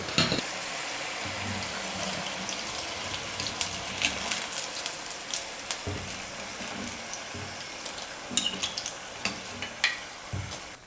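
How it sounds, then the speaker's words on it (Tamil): Cauliflower pieces for Gobi 65 deep-frying in hot oil, giving a steady bubbling sizzle with scattered crackles and light stirring taps, close and fairly quiet, without speech. "இதே போல் மீதி இருக்கிற எல்லா காலிஃப்ளவரையும் எண்ணெயில் போட்டு பொரிச்சு எடுத்துக்கலாம்"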